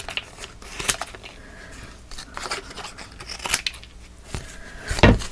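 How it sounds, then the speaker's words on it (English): Scissors snipping paper pieces for a Magnolia Lane photo album, a series of close, crisp cuts at uneven intervals, the last one loudest. "I'm just going to give these a little cut so they're just a little shorter"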